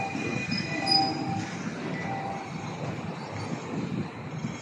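A train in Hong Kong rumbles steadily along the rails with a continuous roar and faint high wheel squeals, heard from on board with no voices.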